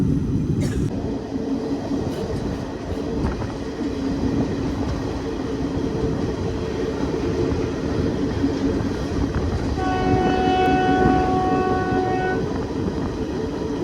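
A special passenger train in India runs steadily with a continuous loud rumble and wheel noise from on board, and a horn sounds toward the end.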